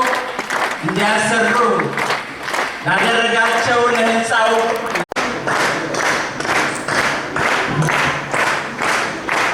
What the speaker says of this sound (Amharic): ሁላችሁም እያጨበጨባችሁ ተቀበሏቸው።